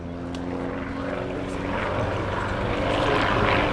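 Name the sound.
propeller aircraft flying aerobatic manoeuvres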